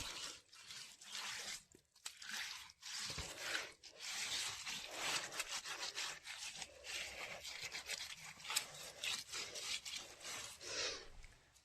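White lime plaster is smeared onto a house wall by hand, producing quiet, close, continuous rubbing and scraping strokes with brief pauses.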